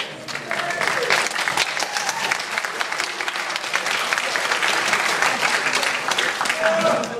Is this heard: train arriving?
no